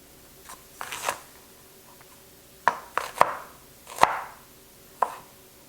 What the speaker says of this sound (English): I'll dice them and then add them into my broth.